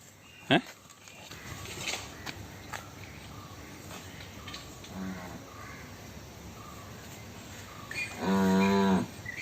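A cow gives a low drawn-out moo near the end, after scattered crow caws and quiet outdoor background with brief distant voices.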